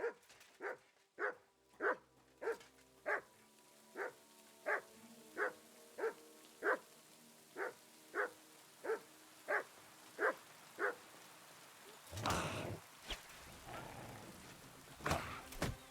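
Wild dog in Kingdom Come Deliverance II barks in a steady series of sharp, evenly spaced yaps, then a burst of rougher, louder snarling and scuffling toward the end.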